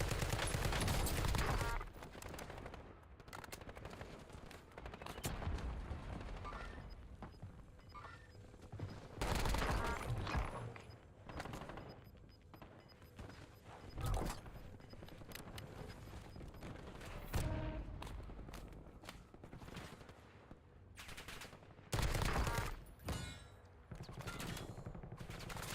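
Automatic gunfire from a ranked Call of Duty: Warzone match erupts in several loud bursts separated by quieter stretches, some volleys close and sharp, others more distant, with a faint voice now and then.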